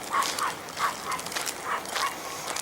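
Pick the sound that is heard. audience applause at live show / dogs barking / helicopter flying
dogs barking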